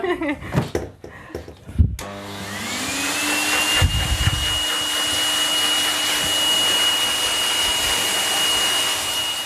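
A blow dryer whirs up and runs as a steady loud whine after a few brief knocks and rustles, continuing without a break.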